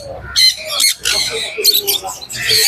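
Cockatiels, including black ones, squawking and chirping at the Naihati pet market, loud bursts of harsh calls close by with market chatter in the background.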